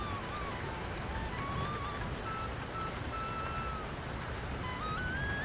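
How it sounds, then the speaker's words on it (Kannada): Heavy rain falling steadily during a village storm in the dark, a dense continuous wash of noise that holds constant and loud throughout, with faint tonal whistles drifting above it. "ಎಷ್ಟು ಜೋರಾಗಿ ಮಳೆ ಬರ್ತಿದೆ."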